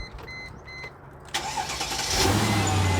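A Mercedes ML55 AMG engine with a long-cranking fault cranks briefly, then catches and starts, settling into a loud, steady running rumble.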